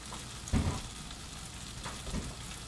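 Onion and a little dried coconut roasting side by side in a pan for kohlrabi sabzi, giving a steady soft sizzle with two brief louder crackles as the pieces are moved.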